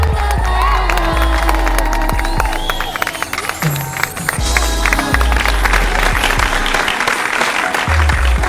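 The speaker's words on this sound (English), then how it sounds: "Give them a round of applause right here." An audience at a celebration applauds a couple's parents with loud, sustained clapping mixed with cheers and whoops, continuing for several seconds.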